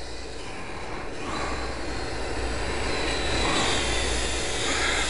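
A small FlyZone Playmate RC airplane drones overhead on a calm day, its electric motor a faint, steady whine that swells slightly and slowly shifts pitch as it passes.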